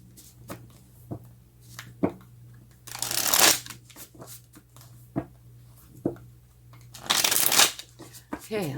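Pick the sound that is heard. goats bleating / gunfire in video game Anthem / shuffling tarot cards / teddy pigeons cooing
shuffling tarot cards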